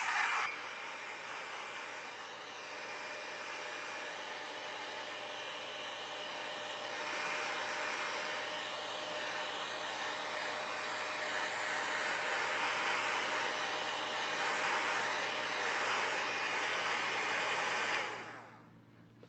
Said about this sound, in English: let me get my paint dryer real quick so I can